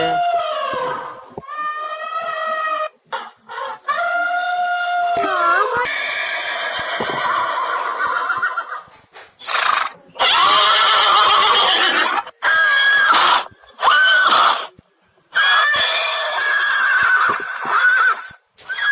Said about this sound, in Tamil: ரெண்டு குதிரை நிக்குது எனக்குள்ள.